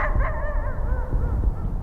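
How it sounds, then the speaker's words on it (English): A dog barks from somewhere beyond the woods, distant and steady, under a constant low rumble of outdoor ambience with no talking. "now the dog is barking. Some dog past the woods"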